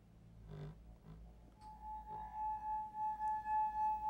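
A glass is tapped or rubbed to make a clear ringing tone, rising into a sustained singing note that pulses steadily in loudness, heard close up and alone after a few soft knocks.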